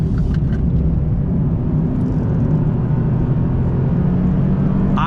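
Steady, loud road and engine drone inside the cabin of a 2019 Nissan 370Z Roadster with the top up while driving, a constant even rumble with no talking.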